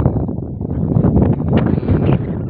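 Strong wind buffets the microphone at a salt farm in San Jose, Occidental Mindoro, a loud continuous roar with rising and falling gusts, no voices.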